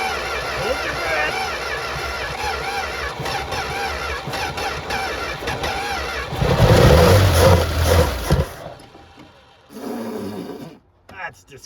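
A 1964 Plymouth Belvedere's Poly 318 V8 cranks, then clatters and roars to life loudly up close for a couple of seconds before cutting out, with people talking around it.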